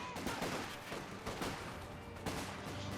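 Distant mortar thumps and rattling Vickers machine gun bursts in a Company of Heroes 2 battle form a dense, continuous wash of gunfire, with faint talk beneath.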